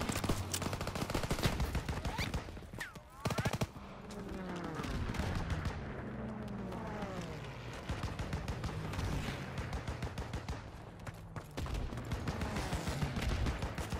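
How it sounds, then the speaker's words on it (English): Near-continuous World War II battlefield gunfire in Call of Duty WWII, dense rattling shots and bursts with occasional louder blasts, loud and close, with whistling swoops mid-clip. "Where am I being shot from?"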